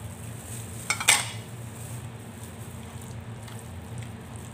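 A spoon scrapes and clinks against a bowl while the chicken embutido mixture is stirred with salt and black pepper, heard as a brief close clatter followed by faint mixing sounds over a low hum, with no speech.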